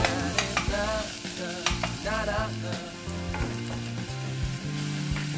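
Garlic sizzles and fries in a pan while Filipino sautéed bitter gourd is cooked, with steady crackling and clinking stirring strokes close by, and a musical background running underneath.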